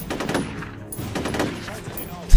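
Gunfire in the shooter game F.E.A.R. Perseus Mandate, a few bursts of rapid shots over a couple of seconds with one sharp, louder impact at the very end.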